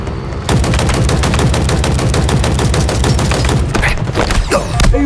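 Rapid, loud automatic gunfire from the video game Halo Infinite rattles off in dense, evenly spaced bursts for several seconds with no talking.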